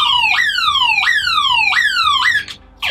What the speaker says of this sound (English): Pitch shifting can also turn into annoying as hell police siren mode.